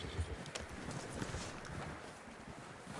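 Quiet clip-clop of horse hooves from the video game Red Dead Redemption 2, in a quick steady rhythm over faint wind-like noise, with no talking.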